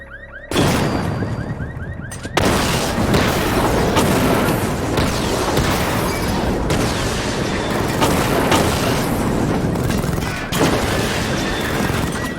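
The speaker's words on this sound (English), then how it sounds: "Charge the missile barrage to level 2 to destroy up to 4 targets at once." Rapid missile barrage firing in Batman: Arkham Knight, a loud, dense wall of blasts and booms that runs continuously for several seconds with a brief lull near the start, no talking.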